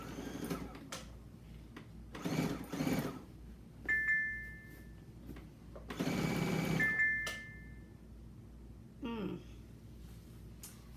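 A computerized sewing machine runs in short stitching bursts separated by pauses, with electronic beeps from the machine and someone talking between the runs.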